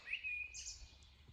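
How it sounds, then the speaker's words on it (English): Birds chirp and sing in the Swiss countryside, a few thin high calls rising over quiet open-air ambience at a moderate distance, with no talking. "Can you hear the sound of the birds?"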